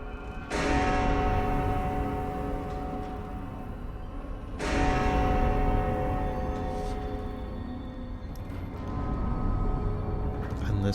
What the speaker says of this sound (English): And last bell tolls midnight.